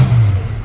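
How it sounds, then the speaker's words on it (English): A restored 1968 Ford Mustang hardtop with a 289 V8 and automatic transmission, its engine revving briefly with a strong low rumble that holds steady and loud before easing off. "let's give it a couple revs"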